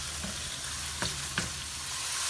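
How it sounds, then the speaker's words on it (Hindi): Chicken sautéing with garlic ginger paste in a pan gives a dense, steady close sizzle, punctuated by two soft spatula scrapes, and no one speaks. "और अब इसको अच्छे से सौते कर लेंगे चिकन और लहसुन अदरक के पेस्ट को"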